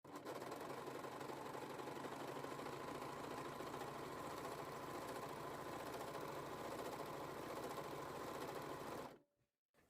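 An overlock sewing machine stitching fabric runs steadily at high speed with a dense, continuous mechanical whir, then stops abruptly near the end.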